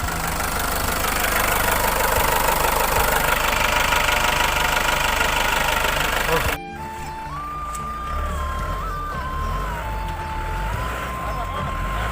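A car engine starts after two years unused, first a loud rough roar, then dropping to a steadier idle with a faint wavering high tone over it.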